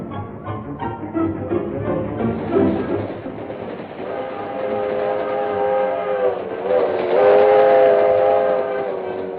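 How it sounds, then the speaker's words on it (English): A train rumbles steadily along, loud and close, with wheels clattering on the rails and a long horn or whistle rising over the noise. "As the train neared the town where Axford would leave the train"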